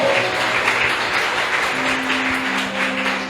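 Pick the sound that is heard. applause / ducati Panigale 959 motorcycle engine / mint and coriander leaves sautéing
applause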